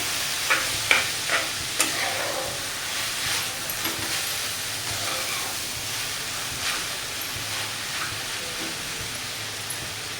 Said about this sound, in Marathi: तुपामध्ये कैरी छान अशी परतून घेतलेली आहे